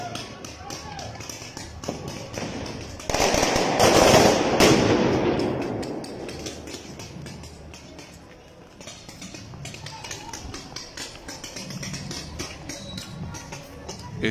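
Rapid bursts of firecracker pops crackle over a noisy protest crowd in La Paz, with a heavier rumbling blast in the middle and voices shouting throughout.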